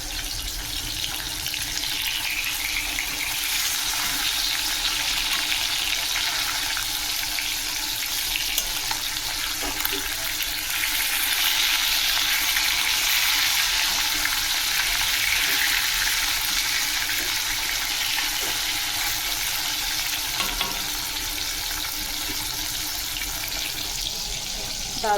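Fish fries in a pan in a small home kitchen, a steady bright sizzle and crackle holding for the whole stretch, with occasional stirring or scraping and a watery hiss mixed in.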